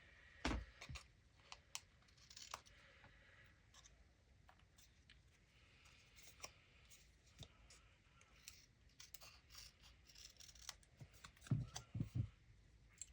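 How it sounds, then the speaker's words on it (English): Scissors snip paper tags for a junk journal up close, with quiet irregular cuts and paper rustling throughout and a few louder snips near the end. "I'll trim all this actually all at once."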